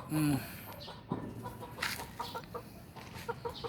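Chickens cluck softly in short scattered calls, with a brief louder squawk at the start and faint background noise.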